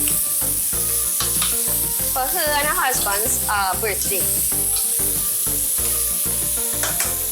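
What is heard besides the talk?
pumpkin frying and sizzling in a pot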